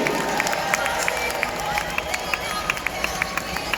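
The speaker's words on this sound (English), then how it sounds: "another nice round of applause for Charlie Andrews and Aaron Toby" A crowd applauds two jousters at a jousting tournament at the Agrodome, with broad clapping and cheering, murmuring voices, and sharp periodic clicks or hoofbeat-like knocks repeating through it.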